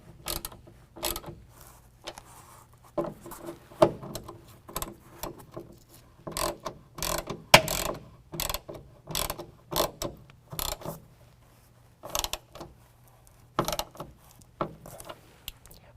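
A ratchet clicks in short bursts while tightening the tailgate striker bolts on a 2019 Chevy Silverado 1500, close and crisp, with irregular runs of rapid pawl clicks separated by brief pauses.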